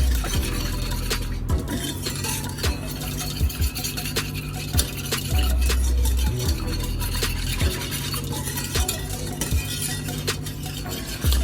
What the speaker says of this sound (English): we're gonna give this a good stir, and we're gonna bring this to a boil